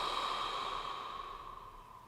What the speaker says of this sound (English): Nice big deep breath in. Soften your belly as you breathe out.